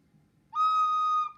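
A single clear whistle-like wind instrument note, played with fingers covering the holes, is held steady for under a second, close and fairly loud, with faint background rumble and no voices.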